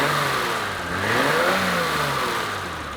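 A 1988 BMW's old-style engine with manually adjusted valves and lock-nut screws runs steadily and revs up and back down, a close mid-pitched drone with faint light clattering beneath it.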